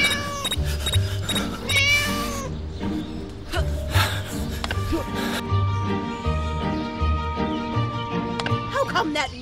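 A cat meows repeatedly in the Scary Teacher 3D mobile game, with several clear, close mewing cries over a looping game music bed.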